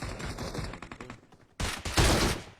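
Gunfire in PUBG Mobile: a rapid burst of automatic shots, a short pause, then a louder, denser fusillade of close bursts.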